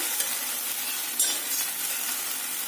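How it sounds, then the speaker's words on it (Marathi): Cucumber dhapate flatbread roasting in oil in a covered pan over a low flame gives off a steady, even sizzle and crackle, close and moderately quiet, with no voices. "या बाजूनी पण तेल सोडायचं त्यावरती परत झाकण ठेवून अगदी मंद गॅसवरती हे छानसं भाजू द्यायचं"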